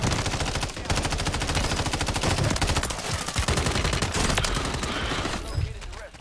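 Submachine gun fire in the Warzone video game, with long, dense bursts of rapid automatic shots that sound loud and close and continue almost without a break.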